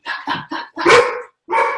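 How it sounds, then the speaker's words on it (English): A dog barks out front, five quick, loud, close barks in an uneven rhythm, the fourth longer and rougher, with brief silences between them. "Oh, I've got a barking dog out front."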